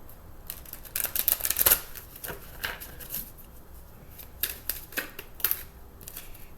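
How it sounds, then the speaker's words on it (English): Tarot cards shuffled by hand in quiet bursts, with a riffling flurry near the start and shorter crisp flutters later, close and fairly soft. "I'm going to give that another shuffle."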